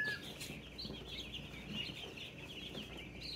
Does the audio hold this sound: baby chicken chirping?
yes